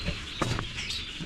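Several birds, including catbirds, red-winged blackbirds and starlings, chirp and call over a busy outdoor marsh background, with a couple of louder nearby calls standing out among the chatter.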